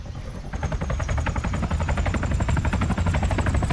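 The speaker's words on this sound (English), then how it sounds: "So this one I'm actually going to fly around because it's a pretty fast helicopter." A fast twin-rotor helicopter in Arma 3, its rotor blades thumping in a rapid, steady beat over a loud engine whine that rises at the start and stays close and strong throughout.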